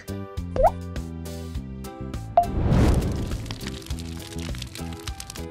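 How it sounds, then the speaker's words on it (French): A splashy plop as a toy chicken drops into a pot of water, with a brief gurgle and slosh, set against a tinkly melodic tune. "Je vais mettre le poulet à bouillir."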